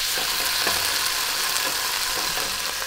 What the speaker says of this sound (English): Now the anchovy gotta be all melted down